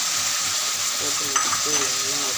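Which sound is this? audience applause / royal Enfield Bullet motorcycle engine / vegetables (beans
vegetables (beans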